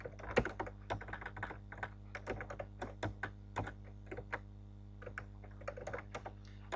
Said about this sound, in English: I'm going to type it here for you